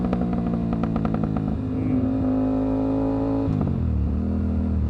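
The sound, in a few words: Aprilia RS457 motorcycle downshifting with AC project exhaust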